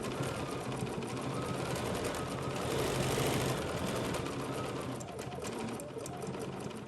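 A Bernina sewing machine with its stitch regulator hums and chatters steadily while free motion quilting a meander design, running continuously and close by without pause.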